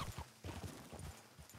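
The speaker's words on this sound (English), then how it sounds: "Stop, horse! Stop!" Horse hooves clip-clop in a short burst of uneven, close, fairly loud knocks in a video game, with no talk over them.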